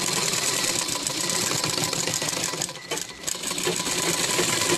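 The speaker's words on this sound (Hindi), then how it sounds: "बगल के पास से सिलाई करेंगे। बगल से सिलाई लेते हुए हम शोल्डर की तरफ आएंगे।" A sewing machine stitches the side seam of an anarkali frock. It runs close and steady for the whole stretch, a dense rattling whir with only a brief dip near the middle.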